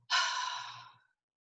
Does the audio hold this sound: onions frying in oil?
no